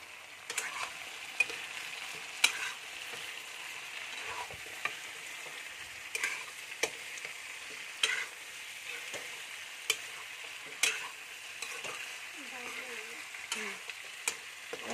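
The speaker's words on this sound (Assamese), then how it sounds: "আলুখিনি দি দিলোঁ, এতিয়া অলপ ধুনীয়াকৈ লৰাই দিম" Potatoes are stirred into chicken frying in a pan, with a steady soft sizzle broken by sharp, irregular scrapes and clicks of a spoon against the pan, close and fairly quiet, with no talking.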